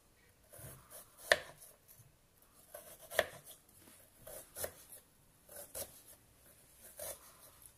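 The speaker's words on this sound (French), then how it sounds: "je vais couper des petites tranches très fines" Thin slices being cut from an apple with a knife, a run of soft, crisp cuts spaced irregularly with a few sharper ones, heard close and quiet with no talk.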